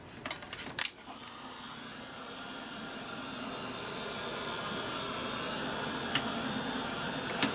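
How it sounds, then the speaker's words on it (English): A heat gun blows a steady, broadband rush of hot air with a faint hum, starting after a few brief handling knocks and continuing evenly, used on kitchen towels for inky craft backgrounds. "So grab the heat gun."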